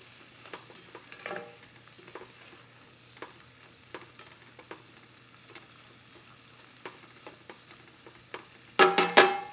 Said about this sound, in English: get my quail bits in there. Perfect. I'm gonna toss that in the butter as well.